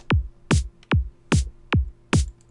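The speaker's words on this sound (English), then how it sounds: "So now the snare sounds like this" Six punchy compressed psytrance snare hits in an even, steady rhythm, each a sharp crack with a short tight decay, close and alone.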